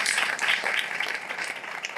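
Audience clapping at a groundbreaking ceremony, a moderate, somewhat thin patter of hands heard at a distance that softens slightly over two seconds.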